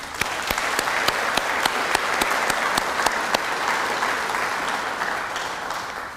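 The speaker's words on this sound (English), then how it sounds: "Please join me in applauding the wonderful work of one of our elders on campus, Uncle Ivan." At the Yarramundi Lecture 2014, an audience applauds Uncle Ivan, an elder on campus, with loud, sustained clapping in which a few sharp individual claps stand out above the steady roar.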